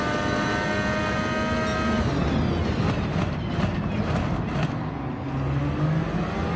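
A Honda MP4/4 race car engine in Gran Turismo 7 drones loudly and continuously, its high whining harmonics falling in pitch over the first seconds before the engine note roughens and settles, with no talk.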